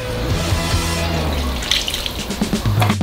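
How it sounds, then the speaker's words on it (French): A 300 ml stream of oil poured into a large batch of dough, a close, continuous liquid gurgling pour with bubbly splashes. "Versez 300 ml d'huile"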